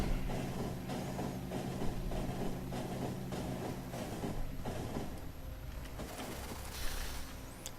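A train in Factorio rolls along in a continuous rumbling, rattling rush, loud and steady, with a faint change in texture near the end and no speech.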